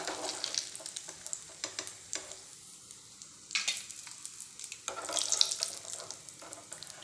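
Almonds and cashews fry in ghee with a soft crackling sizzle, broken by scattered stirring scrapes and clinks of a spoon against the pan, fairly quiet and close, with no voices.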